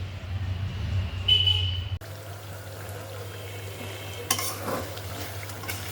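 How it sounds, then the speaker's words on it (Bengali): Prawns cook in a pan for chingri malaikari, a soft sizzle and stirring with a faint low hum, an abrupt cut partway through, then quieter frying with a brief clatter. "চিংড়ি মাছটা ভুনা করতেছি, ভুনা না, একটু মালাইকারির মতন রান্না করতেছি, চিংড়ি মালাইকারি"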